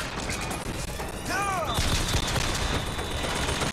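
Gunfire in the video game Bioshock Infinite rattles in a dense, continuous burst over loud combat noise, with a short whooshing sweep partway through.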